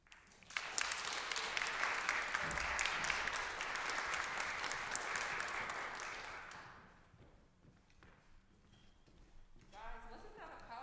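Audience applause after a personal story at a 2020 talk event, a dense loud clapping roar that holds steady for several seconds, then fades out into quiet room tone with faint voices.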